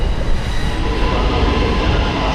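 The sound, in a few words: train running, an empty iftar train near Lahore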